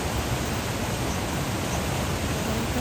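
A waterfall in the Himalayas pours as a constant, dense rushing roar, steady and even throughout with no other sounds standing out.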